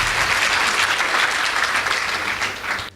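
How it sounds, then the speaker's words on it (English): Audience applause at a school debate competition between Goshen Boys High School and Miti Mingi Secondary School, a dense, steady wash of many hands clapping that holds loud for nearly three seconds before fading at the end. "Please give them a round of applause."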